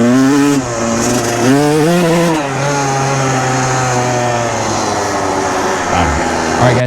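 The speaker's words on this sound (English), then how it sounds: "this first ride on the 1998 Kawasaki KX125 project bike" A rebuilt 1998 Kawasaki KX125 two-stroke dirt bike revs loudly up close while riding, its engine pitch rising and falling through a few gear shifts before settling into a sustained high drone.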